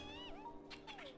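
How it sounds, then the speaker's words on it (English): Numby, the small cat-like creature from the video game Honkai Star Rail, gives a pair of short, bright, rising-and-falling meows over steady game music, clear and close. "Numby! Cat!"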